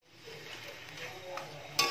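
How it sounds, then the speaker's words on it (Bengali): Chana dal cooked with raw papaya being stirred in a pan, a brief soft scraping and gentle sizzle ending in a sharp metallic clink. "তাও আর একটু 2-3 মিনিটের জন্য এইভাবে একটু নাড়াচাড়া করে নেব।"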